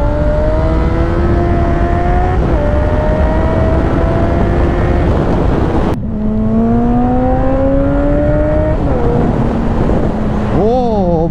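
A 2008 Suzuki Bandit GSF 650 S motorcycle engine running loud and close, rising through revs in a smooth climbing whine, dropping sharply at a gear change, then pulling up again with a brief throttle warble near the end.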